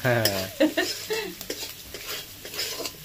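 Egg bhurji stirred with a utensil in a hot frying pan, scraping and clinking strokes over a soft sizzle, close, with someone talking through much of it.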